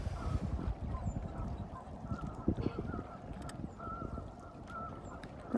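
Geese or ducks honk and call near water on a narrow peninsula, a busy outdoor chorus of repeated calls over steady wind and ambient noise.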